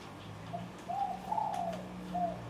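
A caged pet dove coos softly at a grandmother's home, several gentle rolling coo phrases close by over a low steady background hum, without speech.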